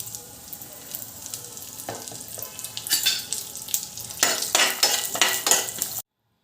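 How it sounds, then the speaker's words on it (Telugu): Cashews and raisins frying in ghee in a pan for rava laddu, a soft crackling sizzle that grows louder as a spoon stirs with bursts of scraping, ending abruptly in silence. "ఇప్పుడు నెయ్యి వేసుకుని జీడిపప్పుని కిస్మిస్ని వేసుకుని వేయించుకోండి"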